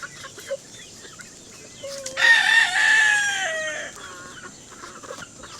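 Pet chickens in a Philippine yard let out a short burst of loud squawking and clucking. It swells for about two seconds and then fades back to quiet background clucks and ambient noise.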